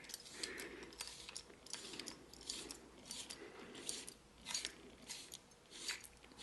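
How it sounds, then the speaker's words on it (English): Small metal parts of a Jupiter 37A 135mm f3.5 lens being screwed into place: faint, close, steady scraping and gritty rubbing repeating in short strokes. "I'll just keep screwing that in place"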